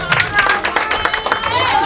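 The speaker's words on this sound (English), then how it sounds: "A round of applause." Lively crowd clapping and cheering at a traditional wedding celebration, with voices and excited shouts mixed into the brief, energetic burst.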